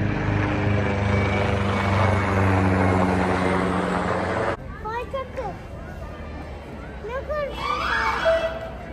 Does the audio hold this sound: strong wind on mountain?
no